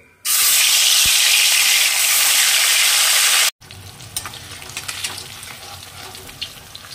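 Rohu fish pieces dropped into hot mustard oil, a loud roaring sizzle for about three seconds, then a sudden cut to a quieter, steady crackle with scattered pops.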